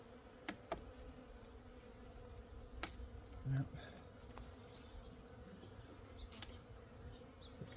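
Honey bees crawl and hum around the frames of a backyard hive opened on a cold winter day. A faint, low buzzing runs steadily under scattered clicks of frame handling, and one person says a single word.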